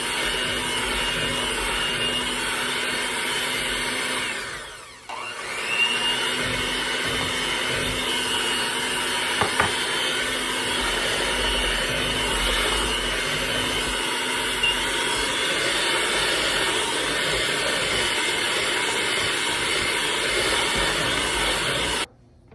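An electric mixer beats cheesecake batter in a bowl, whirring with a steady hiss and drone that dips briefly early on and then runs on evenly until it cuts off.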